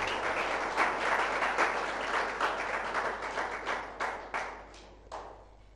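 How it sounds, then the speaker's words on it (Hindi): Dense applause from an audience at a lecture programme starts full and even, then breaks into fewer separate claps as it dies away. "तहे दिल से तालियां।"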